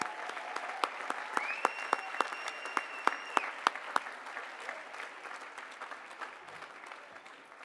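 Audience applause at a business school awards and diploma ceremony for Dean's Academic Achievement Award recipients, steady crowd clapping with several sharp close claps standing out, gradually thinning and fading toward the end.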